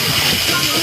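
A breathy, hissing whoosh made by a voice imitating wind, steady and close, filling the whole moment.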